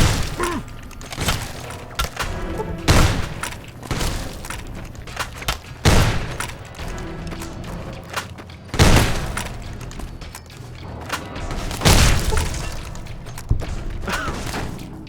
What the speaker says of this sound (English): Well, my shotgun says otherwise.